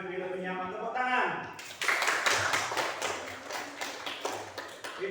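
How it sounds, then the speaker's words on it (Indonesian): Students in a classroom clap their hands in a quick burst of sharp, irregular claps that follows a spoken voice and carries on at moderate loudness to the end. "Tepuk tangan."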